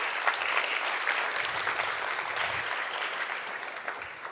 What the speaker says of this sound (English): Let's give Paul a great round of applause